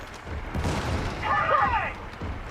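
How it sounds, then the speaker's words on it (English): A video-game grenade goes off as a muffled, rumbling boom amid ongoing battle noise, followed by a brief higher whining sweep, moderately loud and fairly close with no speech over it. "Throwing grenade!"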